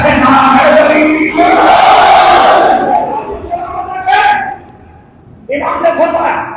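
A packed congregation at a Muharram majlis shouts a loud collective chanted reply to a slogan, the massed voices bursting in waves, briefly dropping, then rising again.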